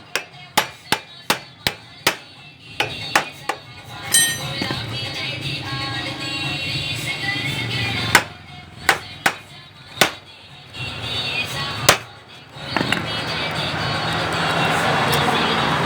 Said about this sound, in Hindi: आपने सिर्फ पेचकस के साथ उसको आपने प्रेस करना है और थोड़े के साथ हैमरिंग करनी है, तो वो बाहर की तरफ आएगा